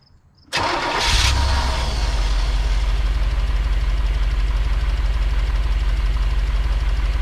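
A 1985 Chevy Corvette, parked for 20 years, cranks and fires up after a short silence, then settles into a loud, steady, rough idle with an uneven throbbing beat, not running on all cylinders.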